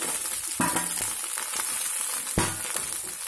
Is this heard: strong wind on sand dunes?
no